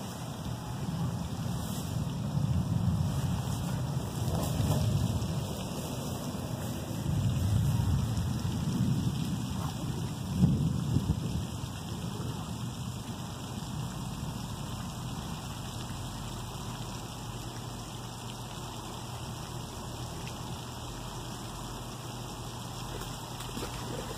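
Steady rain and gusty wind surround a fishing boat out on the water during a thunderstorm, with faint low rumbles of thunder swelling and fading beneath a constant hiss; no one speaks.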